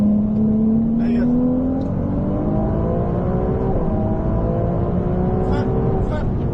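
A car accelerating on a race track, its engine note climbing steadily in pitch and then holding a high whine as it pulls away, loud and continuous, with brief voices over the top.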